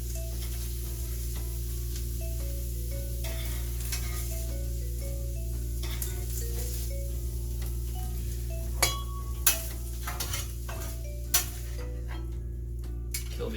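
Thin steak sizzles on a stovetop with a constant, moderate hiss over a low hum, while scattered utensil ticks and a few sharp clinks sound near the end.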